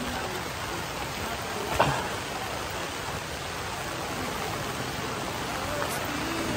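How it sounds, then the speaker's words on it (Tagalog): Heavy rain pours down steadily outdoors as a constant loud hiss with no voices, broken by one brief knock partway through. "Ang malakas na ulan."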